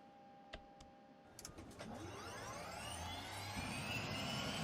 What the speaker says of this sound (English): set the respective engine main switch to idle